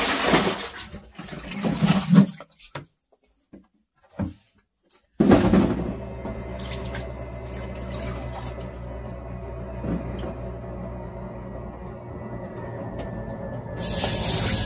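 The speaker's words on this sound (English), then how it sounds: "all I'm going to do right now is just dump this water so it has served its purpose" Water being dumped out during vegetable prep for a dressing: bursts of splashing and hissing pour early on, then a steadier rushing flow of running water continues, fairly close, with no talk.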